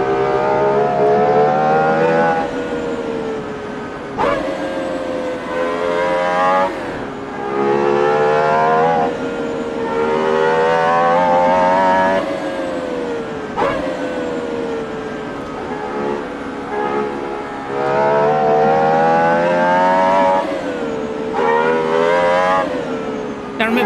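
A GMA T50 road car on old tires racing around the Nürburgring in a racing game, its engine screaming loud and close through repeated high revving climbs, with brief dips at each gear change or lift before it surges again.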